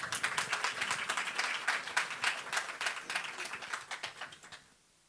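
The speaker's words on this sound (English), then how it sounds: "A round of applause, please, for our panelists." An audience claps for panelists at a conference session, a quiet, fairly sparse patter of hand claps that fades out near the end.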